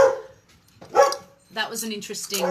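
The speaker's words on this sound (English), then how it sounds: "even my dog's got something to say about that one." A dog barks in a few short bursts close by, with a pause between them, breaking into a spoken monologue.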